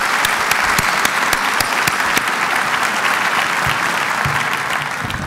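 A large audience at a university address applauds the nursing program, with a broad, continuous roar of clapping and a few sharper individual claps standing out, steady throughout.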